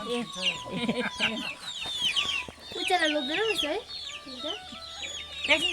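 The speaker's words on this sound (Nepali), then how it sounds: "यहाँ चाहिँ मुसी दिदीको चल्लाहरू के भयो ठुलो छ" Several chicks cluck and chirp continuously at close range in a Kalimpong village, a busy overlapping chorus with faint voices in the background.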